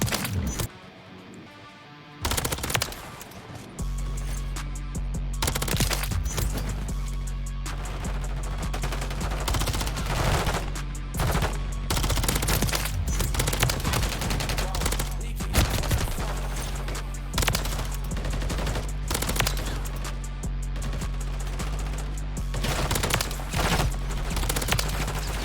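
Rapid SMG gunfire in Modern Warfare 3, loud bursts and sustained automatic fire running almost continuously over a steady low hum of game sound, with only brief pauses between strings of shots.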